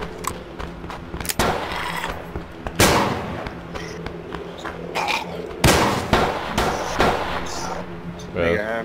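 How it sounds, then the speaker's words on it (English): Gunshots in the survival video game Survive The Nights, several sharp loud blasts spaced irregularly, some close and punchy, with other clattering game noise between them. "The gunshots do sound really cool in this game, though"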